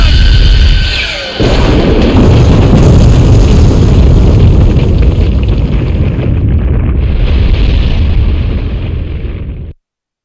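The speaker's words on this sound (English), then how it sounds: "You can't run from an explosion!" A loud, sustained explosion roars from Naruto Shippuden Ultimate Ninja Storm 2, a dense, rumbling blast with a brief dip before swelling again and lasting several seconds before cutting off abruptly.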